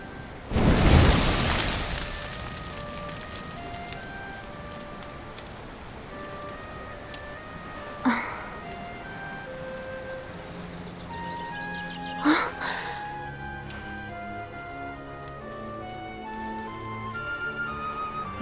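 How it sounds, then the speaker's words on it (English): Rain falls steadily in Dragon Quest XI S: Echoes of an Elusive Age, a constant hiss under soft game music, with a louder rush near the start and two dull booms later on. "Looks like the rain's dying down."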